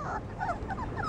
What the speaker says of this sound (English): Look how tiny these puppies are, man. They're really newborn.